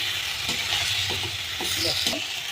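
Masala fries in a wok over a low gas flame for egg curry, with a soft constant sizzle and about five rhythmic spatula stirs scraping the pan up close, no voices.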